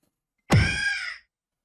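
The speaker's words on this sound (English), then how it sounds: "Did a bird just land on the windowsill?" A bird alighting on a windowsill in a video game gives a single harsh crow-like caw, loud and close, starting with a sharp thunk-like onset and lasting under a second against silence.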